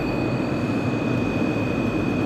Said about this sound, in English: These dry coolers, they make this terrible metallic sound, both of them.